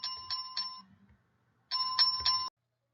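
A bright notification bell chime rings out in two bursts, each a quick run of three metallic dings with a sustained ringing tone, clean and close with silence between and after.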